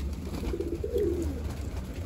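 A yellow-necked female pigeon gives a single soft, throaty coo midway through, rising and falling over a low steady background hum.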